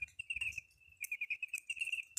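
Cricket chirping in the woods: a steady, high, rapid pulsing trill close by, continuing throughout with only faint background noise.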